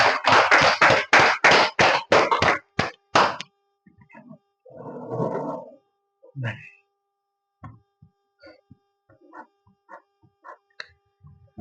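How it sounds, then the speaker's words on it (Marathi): A short burst of brisk applause for prize winners at a lucky draw event, roughly a dozen sharp claps fading after about three seconds, followed by quiet and sparse speech. "जोरदार टाळ्या होण्यासाठी"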